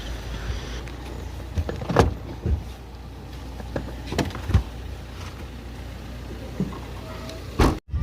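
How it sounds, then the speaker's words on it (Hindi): Luggage being loaded into a parked car before a road trip to Mahabaleshwar, heard as scattered thumps and bumps, a sliding or door-like clunk, and a final sharp knock, all over steady outdoor background noise. "तो सबसे पहले हम रख देते हैं सामान गाड़ी में"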